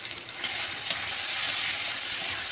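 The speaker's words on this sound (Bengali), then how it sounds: "আর বেটে রাখা মশলাটাও দিয়ে দিলাম" Spice paste hits a pan of frying potatoes and melted tomato with a steady, bright sizzle that stays close and even, broken by a couple of soft clinks, with no talking.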